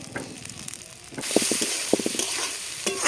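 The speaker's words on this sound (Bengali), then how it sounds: "এবার এই ধুয়ে রাখা ডালটা ভেজে নেব" Washed lentils (dal) frying in hot oil for lemon leaf khichuri, a steady close sizzle and hiss that starts abruptly and runs loud, with intermittent stirring clinks and scrapes.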